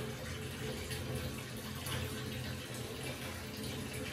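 Water running steadily from a tap into a container, a continuous even splashing rush held close for a few seconds with no talk.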